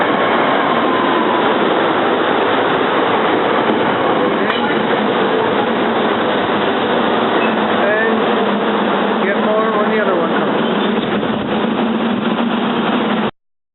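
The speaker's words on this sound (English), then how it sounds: "Here we got our trains to 30th Street Station and R1 Airport." Commuter railcars 419 and 420 run through a station, a steady loud rumble of wheels and motors lasting throughout, with faint squeals and announcement-like tones over the din.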